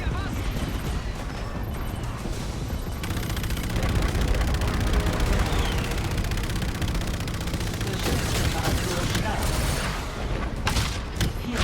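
Rapid, dense automatic gunfire and booming blasts fill a battle in Call of Duty: Infinite Warfare, loud and continuous throughout, with excited shouting mixed in.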